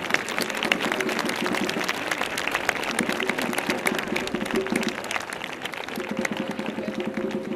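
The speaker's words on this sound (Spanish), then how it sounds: "un fuerte aplauso para él" Loud, sustained applause from a crowd at a carnival proclamation event in Chipiona's Plaza Vieja, a dense continuous clatter of hands with a faint low hum beneath.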